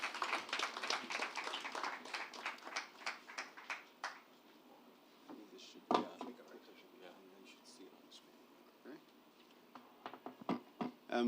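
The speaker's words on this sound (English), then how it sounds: "please, a warm round of applause for the GMD of UACN, Mr. Fola Ayesimoju." A small audience at a corporate capital-market engagement event claps briskly for a few seconds, then the applause dies away into scattered claps, taps and room noises.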